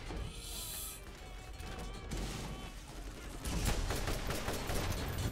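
Gunfire in the video game Borderlands, with bursts of shots and mechanical weapon sounds in an action scene, growing denser and louder in the second half.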